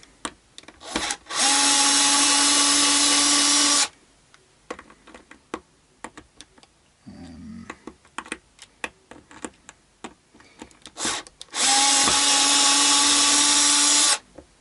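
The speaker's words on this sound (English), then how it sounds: "we'll slack off the neck bolts like this" A Squier Vintage Modified Stratocaster's neck bolts are loosened with a power screwdriver in two loud, steady bursts of whirring, separated by a stretch of clicks, taps and handling noises.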